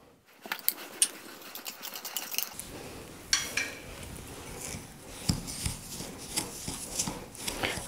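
Butter and crushed biscuit powder are shaken together in a bottle for a simple five-minute dessert, giving a steady run of soft rattling and thudding knocks with some sharper taps, fairly quiet and close.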